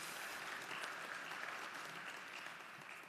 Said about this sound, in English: How about a quick applause for our panelists?